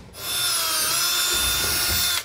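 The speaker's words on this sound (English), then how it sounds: "make sure that you drill all the way up" A power drill bores through a truck bed liner while a B&W Companion sliding fifth-wheel hitch is installed on a Ram truck, giving one steady, loud, high-pitched whine of about two seconds that stops abruptly.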